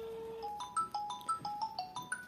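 An incoming call sets off a phone ringtone heard near a Mateo M4 smart band, a bright repeating electronic melody of quick rising and falling notes at moderate volume.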